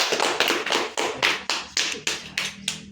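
Children in a classroom clap in a quick, even rhythm, about ten sharp claps over a few seconds, close and loud with no talking.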